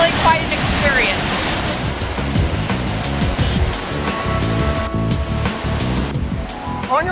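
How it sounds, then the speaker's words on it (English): Roaring waterfall at Triple Falls on an Oregon hiking trail, a loud, steady, close wash of rushing water that fills the whole stretch without a break. "It's almost like a deafening noise of the water coming from above"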